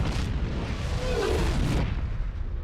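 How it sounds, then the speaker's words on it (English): A deep, broad boom from the atomic blast of the Predator self-destruct device in Alien vs. Predator sweeps across an Aztec city, a sustained roaring rumble that swells then fades, with no voices. "here you have the atomic explosion from the self-destruct device"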